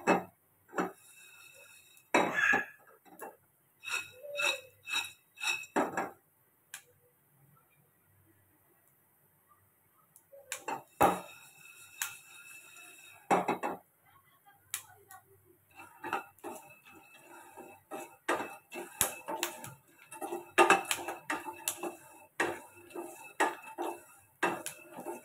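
Peanuts dry-roasting in a pan and being stirred, heard as bursts of rattling, clicking and scraping against the metal, separated by quieter pauses, close and fairly loud.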